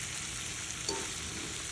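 Tomatoes dropped into a hot pan, frying with a faint, even sizzle and a brief soft clatter partway through.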